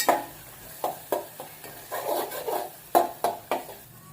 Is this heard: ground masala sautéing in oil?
yes